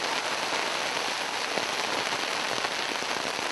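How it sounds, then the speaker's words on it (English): Dense, hard pattering of hail pelts a close tent surface continuously, a loud crackling hiss with sharper individual hits. "That's fucking hail."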